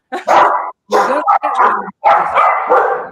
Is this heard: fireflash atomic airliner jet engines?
no